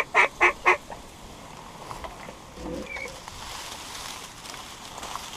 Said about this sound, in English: All mallard, y'all.